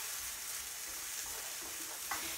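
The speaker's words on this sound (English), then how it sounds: "This has been sauteing now for probably, I don't know, a minute, just enough that you can see it started to get nice and golden brown" Food sautéing in a pan as the base for a risotto gives a soft, steady sizzle, faint and continuous, with one small crackle near the end and no voices.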